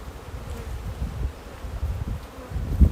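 Honeybees hum steadily around an open hive while the boxes are worked, a dense, close buzzing swarm that rises slightly toward the end, with no talking.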